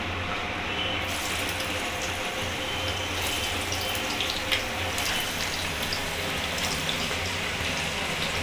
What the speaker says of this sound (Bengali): আলুটাকে আগে একটু ভেজে নেব